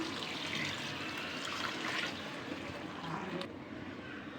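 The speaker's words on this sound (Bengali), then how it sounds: "পানি দিয়ে দিব এখন।" Water is poured into a pot of fried rice and milk for vegetable pulao, a steady close splashing trickle that runs continuously and stops abruptly near the end.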